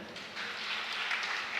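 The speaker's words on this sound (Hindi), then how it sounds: "विनोद जी के लिए ताली बजा दो आप" A crowd at a Jain pravachan (religious discourse) gathering claps together, giving a steady, dense patter of applause that stays level for under two seconds.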